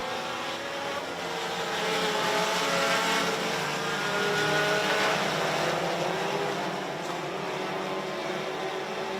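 Sport compact race cars at a short-track race pulling away on the green flag, a dense roar of several engines revving and droning together, loud and sustained, with the pitch rising and falling as they accelerate.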